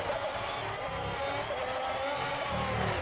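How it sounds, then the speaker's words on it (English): Formula 1 race cars lapping Spa for the Belgian Grand Prix in the video game F1 2021, a continuous engine whine under a broad roar that rises slightly toward the end, with no voices. "You can just hear these cars on song all the way through this lap."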